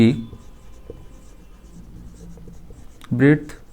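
Chalk or marker writing maths on a board during a class lesson, a faint scratchy stroke sound running through a quiet stretch, with a teacher's voice speaking at the start and again near the end.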